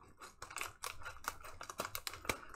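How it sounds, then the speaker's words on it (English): Scissors cutting open a padded envelope for a gemstone unboxing, a run of quick close crisp snips and crackles in an uneven rhythm, quiet overall. "I have my scissors. I'm going to attempt to not cut into anything important."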